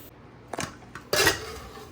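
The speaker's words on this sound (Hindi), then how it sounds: "ये मैंने खोला एक हाथ से कुकर।" A pressure cooker is opened one-handed, giving a couple of metallic clinks followed by a louder clattering clank of the lid, close and with no talking.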